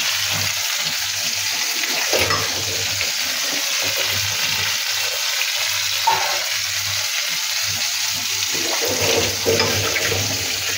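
Small parshe fish fry in a pan, giving a steady, close sizzling hiss that carries on unbroken throughout, with a few faint clinks and scrapes mixed in.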